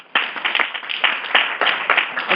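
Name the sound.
speaker clapping for herself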